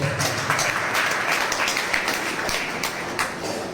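A crowd at a business presentation in Kottakkal claps continuously, with a dense patter of many hands and a few sharper individual claps standing out.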